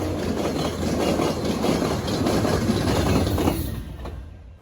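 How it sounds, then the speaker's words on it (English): A model train rumbles and clicks along steadily on a layout, close by, then the sound fades quickly toward the end. "we'll see a couple of trains go by."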